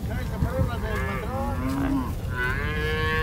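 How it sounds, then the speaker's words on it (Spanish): Cattle on a family farm in rural Mexico moo repeatedly and loudly, several calls overlapping over a busy outdoor background. "Son las vacas de mi tío."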